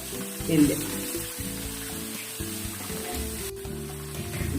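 Seven or eight onions fry in a pan for beef varattiyathu, giving a steady, close sizzle that runs the whole time with a slight swell near the start.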